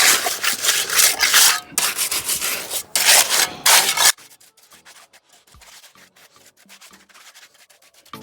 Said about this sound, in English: Just running my trowel that way we don't have any honeycomb